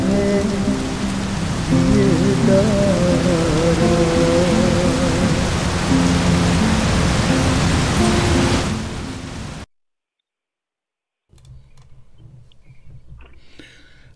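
Steady rain pours down loudly and evenly for about ten seconds under a low musical tone, then cuts off into silence before faint sound resumes.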